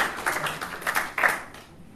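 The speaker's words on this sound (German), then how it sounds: "Kleiner Applaus." A brief patter of light clapping from a small group, moderately close, tapering off toward the end.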